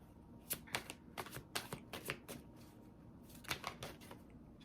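Tarot cards handled and laid out, a run of crisp, close card snaps and slides in uneven bursts, fairly quiet, with no talking.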